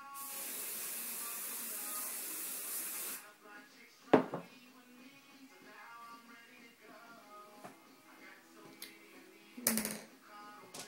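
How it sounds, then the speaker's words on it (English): A loud, steady hiss of hairspray lasting about three seconds, followed by quieter handling noises and a couple of sharp clicks. "And then spray."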